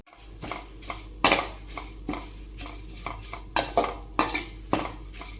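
Flattened rice (avalakki) stirred in a pan with a metal spatula, producing repeated loud scraping strokes in an irregular rhythm, close up and without talk.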